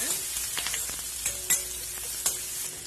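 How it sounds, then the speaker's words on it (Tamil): Sliced onions with curry leaves and a dried red chilli sauté in hot oil in a pan, a steady close sizzle broken by brief stirring clicks and scrapes. "வெங்காயம் கொஞ்சம் செவந்து வதங்க வரைக்கும் வதக்கிக்கலாம்."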